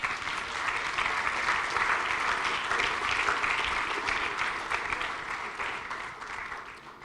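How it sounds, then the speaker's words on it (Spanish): A church congregation breaks into sustained applause, dense and loud throughout before thinning slightly toward the end. "Dele un aplauso al Señor."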